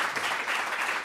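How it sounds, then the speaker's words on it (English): Audience applause for great presentations at a community workshop, a steady dense wash of clapping filling the whole short moment with no voices. "applause to, and I've got a glass of water, but applause for great presentations"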